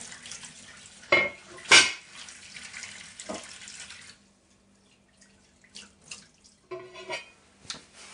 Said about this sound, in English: Now just give this a rinse with some warm clean water